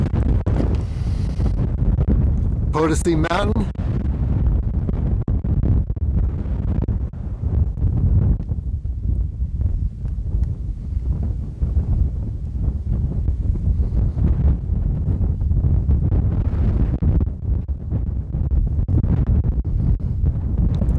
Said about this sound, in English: A lot of wind up here.